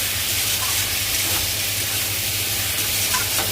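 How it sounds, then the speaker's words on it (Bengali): Potatoes, onions and spices sizzle steadily in a hot pan while being stirred, a continuous close-up hiss with no talking. "দিয়ে এবার এটাকে কষাবো ভালো করে"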